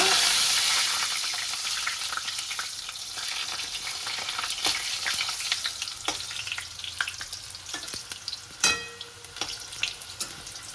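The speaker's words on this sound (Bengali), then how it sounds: "ততক্ষণ আলুটা ভেজে নিই।" Potatoes frying in a pan, a steady close sizzle with scattered crackles and a few sharp clicks of stirring, no talk.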